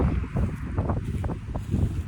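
Strong gusty wind buffets a backyard bird feeder and the microphone, a loud continuous low roar that surges and dips, with no voices.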